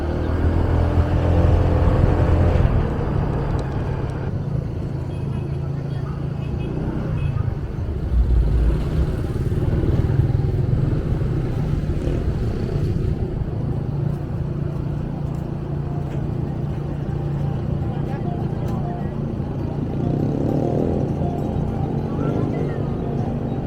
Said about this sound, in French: on prend direct le scoot de la dame